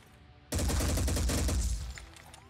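Dense burst of rapid gunfire from the turn-based strategy game Phoenix Point, erupting suddenly after near silence and rattling continuously for about a second and a half before tailing off into fading echoes.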